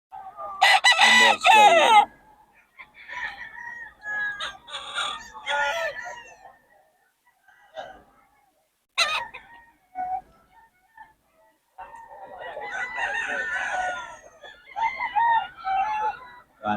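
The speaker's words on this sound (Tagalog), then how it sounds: "Mga manok." Roosters crow loudly several times, with hens clucking between, while someone talks intermittently over the birds.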